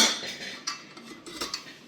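A new Pigeon idli cooker handled close up: light metallic clinks and rattles of steel parts and lids, a few sharper taps standing out over a soft continuous clatter, no voices.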